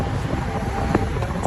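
A strong wind blows outdoors and buffets the microphone with a low, gusty rumble that stays steady through the short moment.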